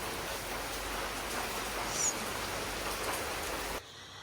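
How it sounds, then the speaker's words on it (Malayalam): Heavy rain falling outdoors gives a steady, dense hiss of drops at an even level that stops abruptly near the end, with no talk over it. "അന്നേരം പുറത്ത് നല്ല മഴയുണ്ട്."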